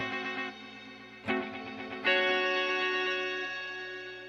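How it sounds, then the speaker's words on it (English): A Line 6 DL4 MKII pedal set to its octo reverb colors sustained guitar notes, with two fresh strikes blooming into a dense, shimmering wash that slowly decays. "I think it's an octa reverb"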